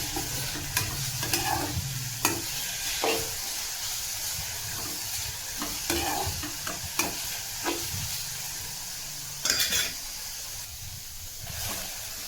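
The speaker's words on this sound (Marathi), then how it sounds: "इथं मी कढईमध्ये भाजत आहे." Ghol leaves, a summer wild green, being dry-roasted and stirred in a kadhai, giving a steady low sizzle with repeated scraping and clinking strokes of a spatula, close and continuous with no talk.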